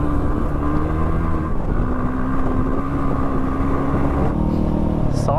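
KTM 701 motorcycle ripping through desert sand near Hatta, a steady loud engine drone with wind buffeting the microphone throughout, pitch shifting slightly as the rider works the throttle.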